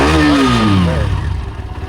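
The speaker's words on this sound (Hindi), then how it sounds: "तो अभी न्यूट्रल में हम आपको एक बार इंजन का आवाज़ सुनाते हैं, उसको बोलूँगा रेव करने के लिए।" Hero Xtreme 125 R motorcycle in neutral, its single engine revved up once, the pitch rising and then dropping back toward idle with a steady pulsing exhaust; close and loud, no talk.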